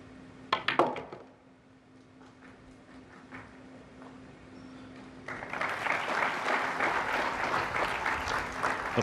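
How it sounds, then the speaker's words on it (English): Billiard balls click sharply at a pool match between Fedor Gorst and Carlos Biado, then after a quiet pause a large crowd breaks into sustained applause that builds and holds to the end. "Applause from this large crowd"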